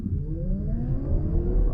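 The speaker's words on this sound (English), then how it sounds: "as you slow down, I'm not sure if you guys can hear that," A 2021 Toyota Mirai hydrogen fuel-cell car gives off a steady low hum with a faint whine that glides in pitch as it slows, heard from inside the cabin, continuous and fairly loud.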